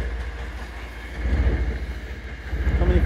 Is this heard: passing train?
yes